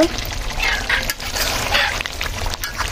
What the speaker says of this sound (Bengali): সুন্দর করে কষাবো মশলার সাথে মাংসটাকে